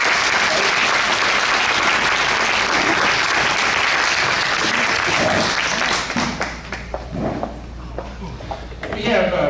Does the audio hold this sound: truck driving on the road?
no